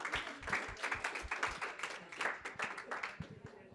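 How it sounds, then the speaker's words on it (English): A room full of people clapping, a dense, steady patter of applause that fades slightly toward the end. "Give them a round of applause"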